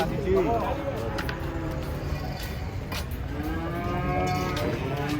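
Cattle unloading from a truck moo loudly and repeatedly over a steady outdoor rumble, long drawn-out calls close by, with some voices around them.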